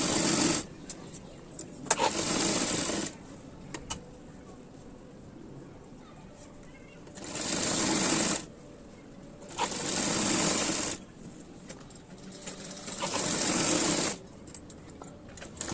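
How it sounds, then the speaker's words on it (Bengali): A sewing machine stitching the neck band of a puffed-sleeve nightie runs in several bursts of a few seconds each, with quieter pauses between, while someone talks in between the runs. "উল্টো দিকে বসিয়ে সোজা দিকে ঘুরিয়ে সেলাই করে নেব।"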